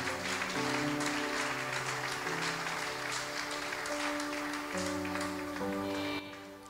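A church congregation applauding, steady dense clapping over sustained organ or keyboard chords that fade near the end, with no clear talk.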